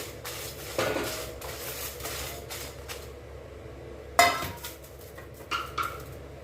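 Lemons are dry-roasted in a pan with rock salt and chillies for a traditional lemon pickle. A spoon scrapes and clanks against the metal in irregular bursts, with louder knocks near the end and no voices.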